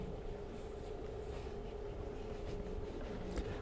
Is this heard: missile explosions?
no